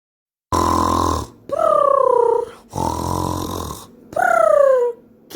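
A voice imitates a dog's loud snoring as part of a children's story: four long rasping snores in a slow in-and-out rhythm, close and loud, with short silences between.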